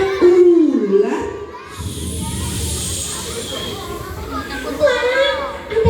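Children in a group imitate a snake with a long, sustained hissing that runs across most of the moment, surrounded by a lively crowd of young voices, with an adult talking over them near the start.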